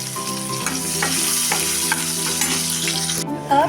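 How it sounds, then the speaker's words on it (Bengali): Onion frying in oil in a wok, dried chillies already in the pan: a steady, loud sizzle with stirring scrapes running throughout, no talking. "এবার আমি পেঁয়াজটাকে হালকা করে ভেজে দেব"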